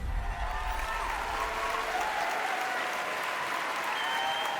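An audience at the Golden Moments Award 2024 ceremony applauds as a guest is welcomed on stage, with steady, dense clapping from a large crowd held at a constant level throughout.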